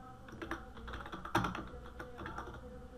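Someone typing code on a computer keyboard, a run of close, uneven keystrokes with a few heavier key presses, quiet, with no talking.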